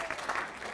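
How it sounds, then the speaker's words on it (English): An audience claps at a healthcare rally, a steady wash of applause heard at a moderate distance with no clear pauses. "another round of applause."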